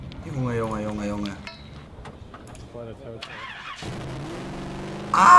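A car engine revs loudly with rising and falling pitch, while people talk excitedly over it.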